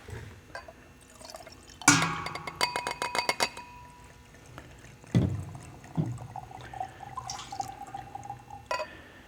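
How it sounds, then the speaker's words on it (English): Cheap $3 wine, blended for a science experiment, is poured into small sample glasses: trickling liquid, bright glass clinks and set-down knocks, close up in a quiet room. "And then I'll start pouring these in."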